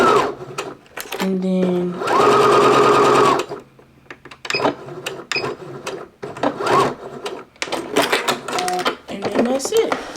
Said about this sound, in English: So forward stitch, then back stitch a few times